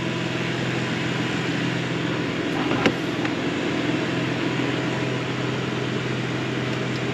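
BMW M3 fitted with a BMS intake, a steady engine drone and intake roar from inside the moving car, constant in level with one brief bump near the middle and no talking.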